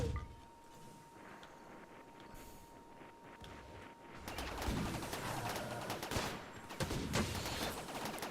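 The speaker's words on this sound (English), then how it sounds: "if our mortars even hit, they didn't hit well" Mortar and gunfire from a RimWorld battle: a quiet stretch with a steady tone, then from about four seconds a dense, sustained rattle of shots and impacts with a few louder bursts, no talking.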